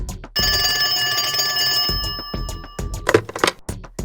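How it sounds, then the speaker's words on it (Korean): An old-style telephone bell rings steadily for a couple of seconds, then breaks off into clattering and handling noises nearby. "저녁 9시 기다리던 전화가 왔습니다"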